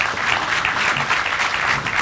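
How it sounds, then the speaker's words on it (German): Dense, loud applause from an audience at a German presentation welcomes a speaker launching an online atheist encyclopedia, a continuous even wash of many hands clapping with no voices on top. "Herzlichen Applaus."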